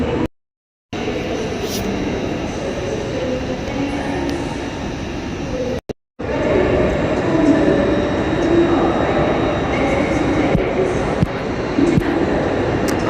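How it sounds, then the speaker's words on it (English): Trains rumble past on a railway beside a London canal walk in Little Venice near Paddington, a steady low, broad roar that fills nearly the whole stretch, broken by two brief dropouts. "I think it's just a bit noisy because of the trains and stuff"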